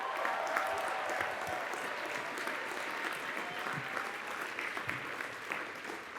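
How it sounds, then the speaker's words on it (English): Steady applause from a large crowd at a university commencement ceremony, moderately distant and even throughout, with no speech over it. "let's give them a round of applause"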